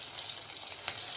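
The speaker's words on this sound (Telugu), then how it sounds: "అదే నూనెలో కొద్దిగా ధనియాలు రుచికి సరిపడా" Coriander seeds fry in oil with a steady, close crackling sizzle and small pops throughout, with no voices.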